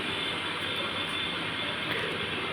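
A steady, close rumble from a train in a mobile heist video game, a continuous roar with no talking.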